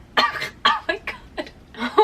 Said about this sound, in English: now that I'm done like coughing and almost dying from breathing all that in